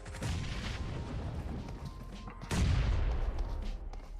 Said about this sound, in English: Goddess gonna throw a nade over this